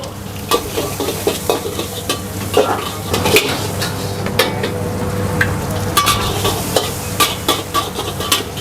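Chicken being stir-fried with butter and garlic in a wok at a busy food stall: steady sizzle and frying hiss with repeated sharp scraping and clanking of a metal spatula against the pan, close and loud.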